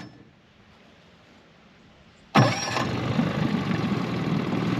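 A new boat motor starts with a sudden burst after a quiet stretch, then settles into a steady, smooth idle close by, with no talk.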